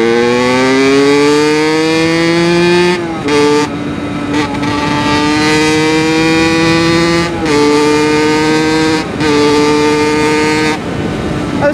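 Engine running without an exhaust silencer, revving loud and raw with rising pitch, cut by several short gear-change gaps before climbing again, harsh and close throughout.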